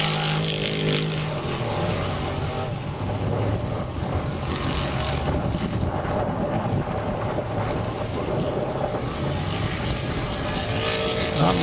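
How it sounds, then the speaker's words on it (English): A 550 horsepower modified race car engine roars steadily throughout, loud and continuous, with heavy wind buffeting the microphone beside a lake and no talk. "550 horsepower modified."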